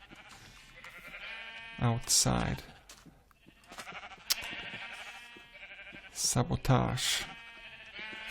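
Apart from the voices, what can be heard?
sheep bleating in Minecraft video game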